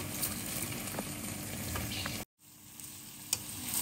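Broccoli frying in a pan gives a bright, steady hiss and crackle with a few stirring clicks, broken by one brief drop to silence partway through.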